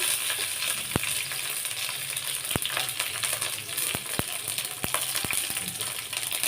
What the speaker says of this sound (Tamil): கடலை கடலைப்பருப்பு இது எல்லாத்தையும் போட்டு நம்ம வறுத்துக்கலாம்